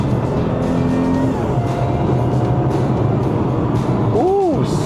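Supercharged 3.0-litre V6 of an Audi A6 C7 under way on a Malaysian road, a steady loud engine drone with tonal whine, shifting pitch as it pulls, a brief rising and falling tone near the end.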